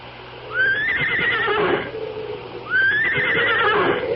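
A horse neighs twice as a radio drama sound effect, each whinny rising sharply then trembling down over a second or so, loud and close against a low background hum.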